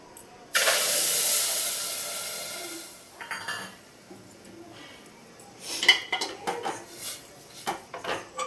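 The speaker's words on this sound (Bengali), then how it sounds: "দেখো হালকা করে একটু ভেজে নিয়েছি, দিয়ে দেবো অল্প একটু জল।" Water poured into a hot pan of lightly fried payesh ingredients gives a loud, sudden hiss that slowly fades, followed by several sharp clinks of a spoon or utensil against the pan.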